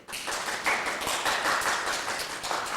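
An audience at a Christmas show applauds the actors, a dense, continuous patter of many hands clapping at a moderate level with no talk over it.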